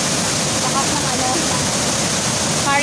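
A powerful seventh waterfall with a strong current gives a steady, loud, broadband roar of rushing water that fills the whole moment without a break, constant and close.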